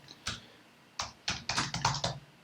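Customer details typed on a computer keyboard, a few separate close keystrokes followed by a quicker burst of clicks, quiet and with no talking.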